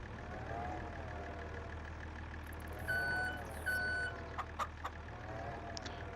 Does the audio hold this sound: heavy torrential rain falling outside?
no